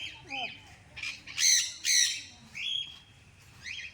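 Birds squawking in short, loud bursts outdoors, with a few thinner chirps between them and faint background ambience.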